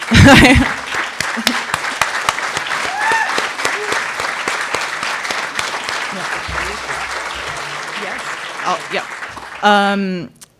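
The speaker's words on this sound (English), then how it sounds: "Can I just ask if you nominated someone to just stand and get a round of applause?" Audience applause at a symposium as a nominee stands, a loud burst that settles into sustained crowd clapping before fading, with a voice breaking in briefly near the end.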